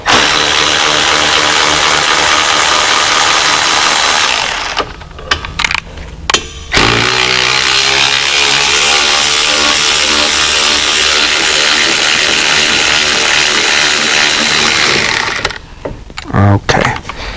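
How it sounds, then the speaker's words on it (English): A power tool whirs loudly for several seconds at a time while removing brake caliper bolts on a Porsche Macan Turbo, cutting off briefly mid-clip before a second long run and a final stop. "Now that we release the pressure on the rotor, we're going to remove the bolts."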